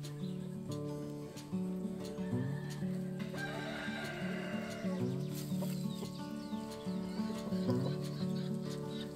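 Chickens cluck and a rooster crows in a grassy paddock with a Thompkins rooster and GSB hens, overlapping calls repeating close by through the whole stretch.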